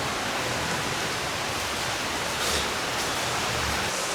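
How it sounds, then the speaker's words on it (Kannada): Heavy rain pours steadily outdoors, a dense, even roar of water with no breaks, close and loud throughout. "ಮಳೆ ಫುಲ್."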